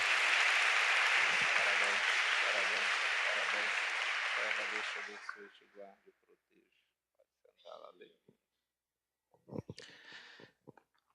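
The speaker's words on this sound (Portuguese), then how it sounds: "Uma salva de palmas para Eva" A church congregation at a Sunday Mass baptism applauds loudly and steadily for about five seconds before the clapping fades out, leaving a few scattered quiet sounds and brief murmurs.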